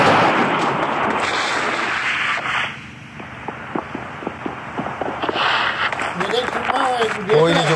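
Firecrackers burst in a rapid string of sharp cracks and pops, fairly close, with people talking and shouting over them.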